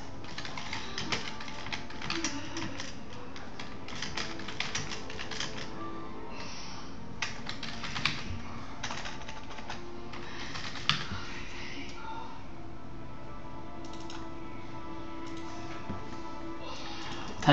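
Keys clatter on a computer keyboard in quick, uneven bursts of clicks at close range, pausing now and then before resuming, with no talk over it.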